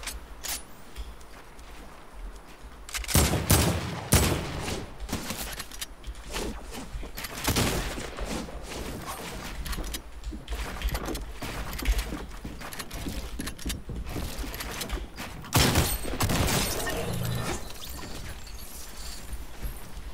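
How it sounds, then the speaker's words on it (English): Fortnite Battle Royale combat with gunfire landing from a distance: irregular sharp cracks and clattering impacts spread across the stretch, some bunched into bursts, over a steady mechanical background with no clear voices. "Shooting me from a distance."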